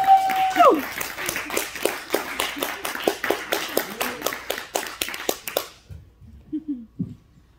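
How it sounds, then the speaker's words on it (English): A stand-up comedy audience claps for the next comedian, a burst of sharp, fairly sparse hand claps that thins out and stops, followed by a few faint voices. "start clapping your fucking hands for Andres Almogan"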